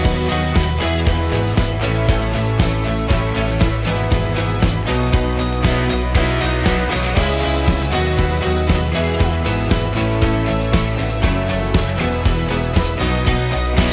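Song chorus in a studio production, first playing without strings and then with a string section added, dense full-band music with a steady driving beat throughout.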